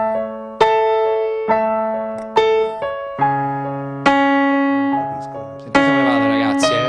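An electronic keyboard plays a run of separate notes and chords, each struck cleanly and held briefly before the next, the tones bright and sustained, up close with no talking.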